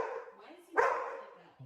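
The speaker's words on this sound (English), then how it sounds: "Then the barking starts," A German Shepherd gives a single sharp, close bark amid a low, growly canine rumble, with a person speaking over it.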